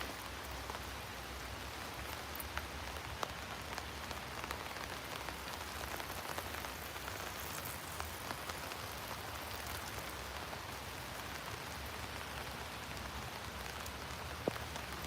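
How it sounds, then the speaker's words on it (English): Steady rain falls on an early-morning street in Krakow in the area of the former Jewish ghetto, a continuous even patter with no voices over the whole stretch. "listen now the sound of rain"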